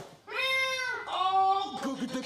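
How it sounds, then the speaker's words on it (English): An orange cat lets out two drawn-out, close meows one after the other, the second ending in a rougher, strained tail with a faint voice underneath. "And let's look at the cat."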